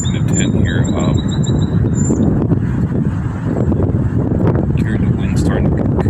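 Strong wind rushes through trees near a tent under a high wind advisory, a loud continuous roar with heavy microphone buffeting and faint higher chirps above it.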